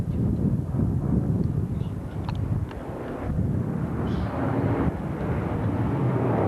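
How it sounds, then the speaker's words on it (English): A Sea Stallion military helicopter flies near the amphibious ship USS Guam, a steady loud rotor and engine roar mixed with heavy wind buffeting on the microphone, with no talk. "This is called a Sea Stallion"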